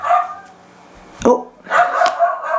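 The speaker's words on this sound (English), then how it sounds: "don't mind my dogs" Pet dogs bark in short sharp bursts at close range, a single yelp followed by a cluster of barks, with a little talk mixed in.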